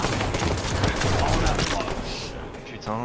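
Rapid bursts of gunfire in the video game Halo 5, loud and dense throughout, with a man briefly swearing in French near the end.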